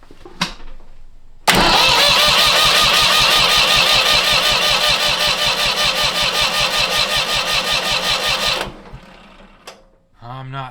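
Vintage tractor engine cranking over during a spark test, a loud even run of rapid starter chugs lasting about seven seconds that then stops abruptly, with brief clatter before and after and a voice at the end.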